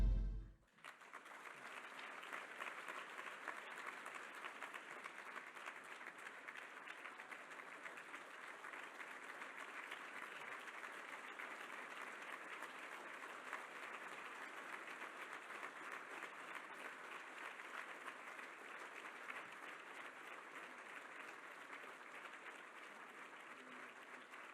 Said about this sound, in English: Can please give him another round of applause